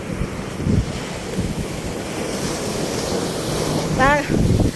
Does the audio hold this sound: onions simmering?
no